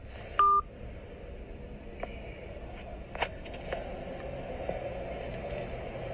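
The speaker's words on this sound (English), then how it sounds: "He just hung up the phone." A telephone line gives a short, loud tone burst as the call is cut off, followed by faint, scattered dial and line tones and clicks over a low background hiss.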